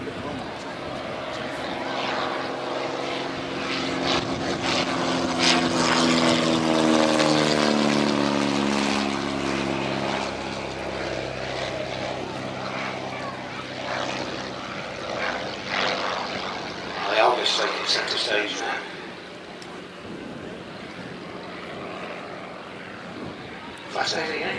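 A Fairchild Argus III propeller plane with an inline Ranger engine drones past at Old Warden, its engine note rising and falling, loud then fading, with a voice talking over parts of it.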